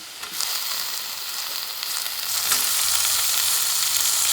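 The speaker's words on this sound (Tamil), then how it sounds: "தக்காளி வெங்காயமெல்லாம் நல்லா வதங்கிடுச்சு" Onions and tomatoes sautéing in a hot pan for paneer gravy, a close, steady hissing sizzle with soft stirring scrapes that grows slightly louder midway and then holds.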